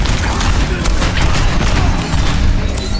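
A loud, sustained roar of explosive noise and crackling gunfire in a video game, dense and unbroken, filling the whole moment without any clear voice.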